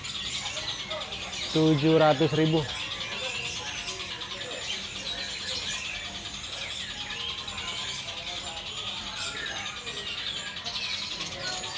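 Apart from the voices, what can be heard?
songbirds singing at a bird market kiosk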